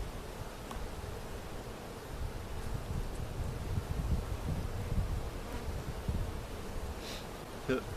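Honeybees buzz at an open beehive in a faint, steady hum that holds through the whole clip with a light background hiss.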